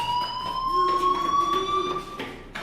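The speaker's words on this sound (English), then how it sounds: "Hey, do you hear that fire alarm?" A fire alarm rings in the video game Life is Strange: a loud, steady electronic tone held unbroken for the whole stretch, with no voices over it.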